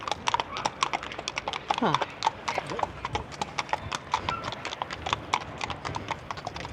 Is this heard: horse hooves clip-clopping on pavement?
yes